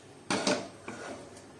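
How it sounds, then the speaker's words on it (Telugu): A metal lid set down onto a cooking pot on a switched-off stove while making badusha, two close clanks about a fraction of a second apart, then a lighter rattle as it settles. "స్టవ్ ఆఫ్ చేసి మూత పెడదాము దీనికి"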